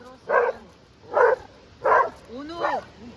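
A dog gives four distinct barks at a home, spaced about a second apart and fairly close, the last one drawn out into a whiny, yelping tone.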